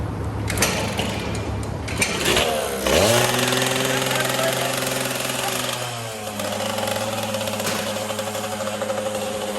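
Yamaha PW80 dirt bike engine idling close by, a rattly two-stroke putter that rises and settles into a steady idle as it is tuned, with people talking over it.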